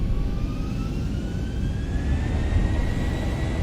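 Boeing 737-700 jet engines in the X-Plane 11 simulator spool up to takeoff power with a loud, steady rumbling roar and a rising whine that climbs gradually in pitch and runs alone throughout.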